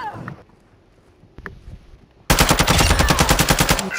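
Rapid automatic gunfire from a video game shooter bursts in loud and sustained after a quiet stretch with brief sounds, a steady stream of shots running to the end.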